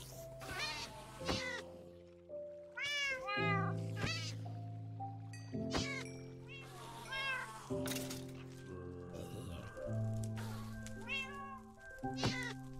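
Cats in the Minecraft modpack Modern Skyblock 3 meow again and again, their calls overlapping in a steady stream over sustained game music tones, with no one talking.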